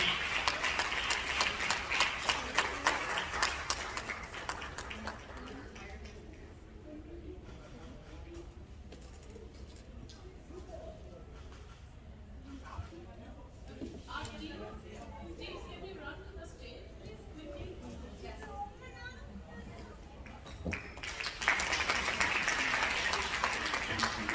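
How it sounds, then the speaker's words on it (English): Crowd applause at a women's community gathering swells near, fades to scattered claps under a voice over the microphone, then returns strongly at the end. "Let's give them a huge round of applause and appreciate the commitment the Awaaz team does to our community"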